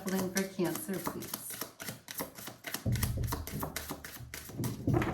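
Tarot cards are shuffled by hand in quick, crisp bursts of riffling clicks, close by, while a person talks.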